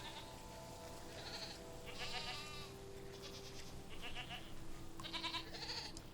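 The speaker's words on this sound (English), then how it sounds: "I'm petting this goat for you." Goat bleating in a farm video game while it is petted, several short bleats at moderate volume over a steady ambient background.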